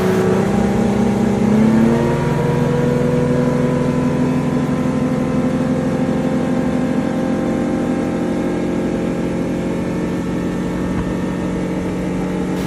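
A speedboat engine drones loud and steady on a river ride, a sustained high-revving whine with a slight surge near the start and no voices.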